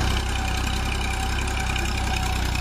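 A tractor engine runs steadily at a constant idle-like pace, a loud, even mechanical drone with a fine rapid pulse throughout and no voices over it.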